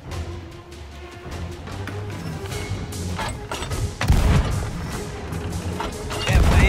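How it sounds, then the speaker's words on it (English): Ship cannons firing during a naval battle in Sea of Thieves, heavy booms and crashing impacts over a constant wash of waves and game noise, with a particularly loud blast near the end. "Come on, cannon, activate!"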